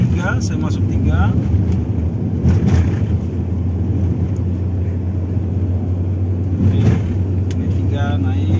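Proton Exora with a manual gearbox and a newly replaced clutch, pulling uphill in third gear on a steep incline, a steady low engine drone throughout with someone talking over it.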